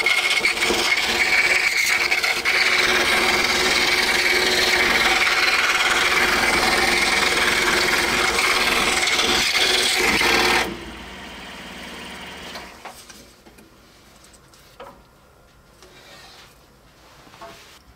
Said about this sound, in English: we're just going to take it over to the scroll saw, and we're going to cut this out